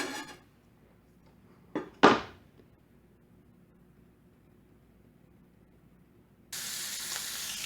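Chopped onion going into a pan for sautéed spring and summer squash: a quiet room, a couple of clattering knocks, then a steady broad hiss of sizzling starts abruptly and holds near the end.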